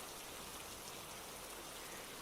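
Steady, even rain falls on leaves close by, a dense unbroken hiss with soft patter and no voices.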